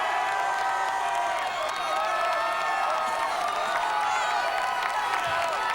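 A spirited football crowd on the East Lansing side cheers with a sustained, loud roar of many voices, including shouts and whoops, continuous for several seconds.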